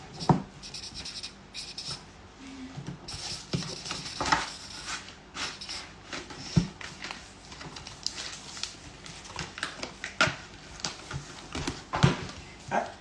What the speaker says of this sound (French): C'est un peu bizarre d'écrire mon prénom.